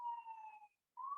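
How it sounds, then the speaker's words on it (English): Emergency sirens outside, faint and distant, a steady wailing tone that drops away briefly and then resumes, heard alone without talking. "I don't know if you can hear the sirens."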